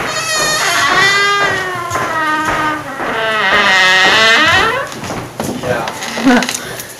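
A black cat in a student dormitory meows close by, giving a few drawn-out, wavering meows while people talk nearby.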